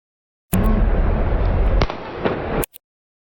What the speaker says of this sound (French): Une seconde plus tard, le policier Florian M. fait feu sur Naël Merzouk.